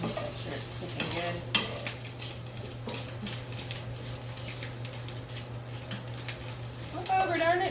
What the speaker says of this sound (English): let me stir this sausage again. Make sure it's cooking good.